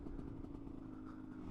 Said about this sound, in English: here's a quick clip of a power wheelie